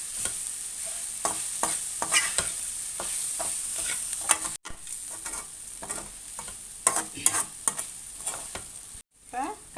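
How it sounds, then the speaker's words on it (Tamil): Puffed rice stirred and sautéed in a pan for upma, with a steady soft sizzle under repeated scraping and tossing strokes from a spoon, close and fairly even throughout, with two brief pauses. "இப்போ பொரியை வந்து சேர்த்துக்கலாம். நல்லா வதக்கிக்கலாம்."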